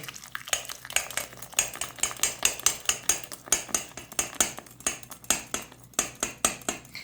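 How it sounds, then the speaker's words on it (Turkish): An egg whisked with a bottle of plain mineral soda in a bowl, a quick steady rhythm of metal whisk strokes clinking against the bowl, close and continuous. "Bir adet yumurtamı bir şişe sade maden sodasıyla çırpıyorum."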